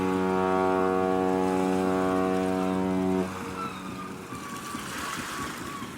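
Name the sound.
boat honking its horn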